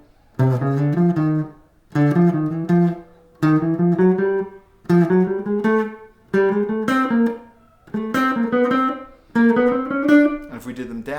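A chromatic scale played in thirds on a pitched melodic instrument, sounding as seven evenly spaced sustained two-note figures stepping upward, each separated by a short gap, clear and close with no talking.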